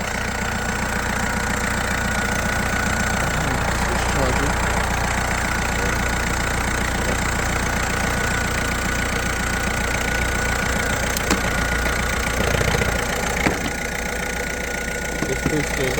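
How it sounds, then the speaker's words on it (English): Van engine idling steadily just after a jump start from a booster pack on a flat battery, a loud continuous rattly drone with brief bumps of movement nearby. "you see how easy it started the engine"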